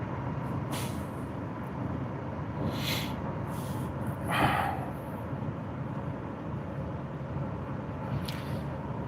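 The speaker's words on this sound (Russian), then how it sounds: "Вот по левой стороне навстречу идет автобус." A rural Polish road heard from inside a moving vehicle as an intercity bus passes in the oncoming lane, a broad engine and road rumble over steady cabin noise with a short hissing swell midway.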